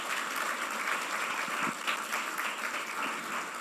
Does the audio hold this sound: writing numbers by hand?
no